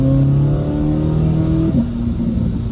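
A 2026 Corvette Z06 3LZ engine revs loud and close inside the car, a steady rising drone that holds, briefly drops, then settles into a lower sustained note.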